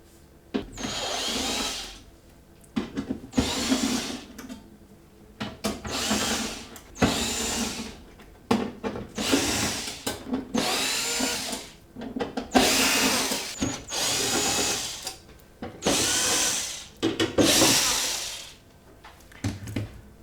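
Power drill unscrewing screws from a dishwasher panel, running in repeated whirring bursts of a second or two each with brief gaps between them, close and fairly loud, with no talking.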